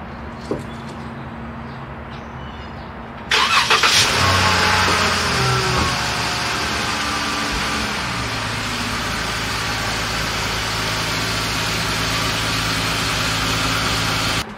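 Audi car parking on a wet street after rain, a quiet start with a click, then the engine starts up loud and settles into a steady idle hum.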